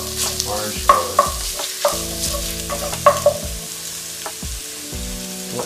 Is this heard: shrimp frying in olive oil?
yes